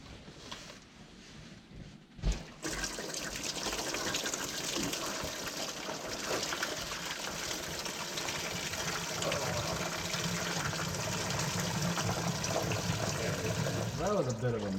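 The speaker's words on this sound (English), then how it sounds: "we're gonna try to get this lower radiator hose off and drain this coolant" Coolant gushes out of the pulled lower radiator hose of a 1988 Pontiac Firebird's small-block Chevy V8, a loud, steady splashing pour that starts after a knock and keeps running close by.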